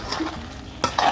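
A spoon stirs tomato gravy with a little added sugar in a pan for chicken dum biryani. The gravy sizzles softly throughout, with two sharper scraping strokes near the end.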